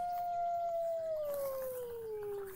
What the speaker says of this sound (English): That was a very loud wolf howl indeed.